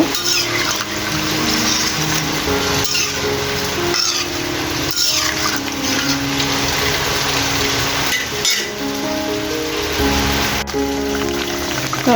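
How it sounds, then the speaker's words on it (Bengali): Water poured into a pan while making a light pabda fish curry with cucumber: a steady, close, rushing splash that runs unbroken for the whole stretch, with a faint tonal background underneath. "এখন আমি জলের জন্য পরিমাণ মতো পানি দিয়ে দিচ্ছি"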